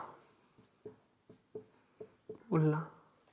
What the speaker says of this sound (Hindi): फटाफट हम लिखेंगे मौलवी अहमद उल्ला